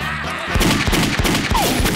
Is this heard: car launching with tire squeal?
no